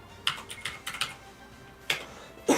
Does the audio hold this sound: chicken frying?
no